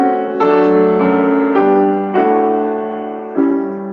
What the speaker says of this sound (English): Old Irish tune.